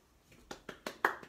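One person claps slowly, about five sharp hand claps at a steady pace, close and fairly quiet in an otherwise still room.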